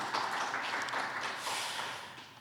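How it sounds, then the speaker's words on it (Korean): Conference audience applauding a safety-city association chairman at an international safe communities conference session, steady dense clapping filling the room for a couple of seconds, fading slightly toward the end. "박수 한번 쳐주시죠"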